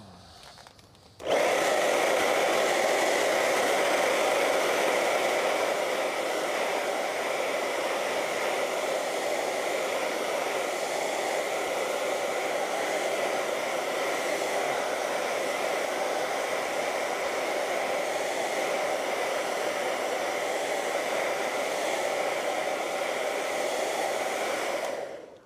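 A hair dryer blowing onto a freshly poured acrylic painting, switching on abruptly after a quiet second and then running as a loud, steady whirring rush for the rest, without speech.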